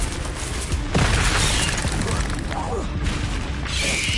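Fiery spell blasts from the Hogwarts Legacy video game, a loud boom near one second followed by sustained crackling rumble and further bursts, layered with game effects and voices throughout.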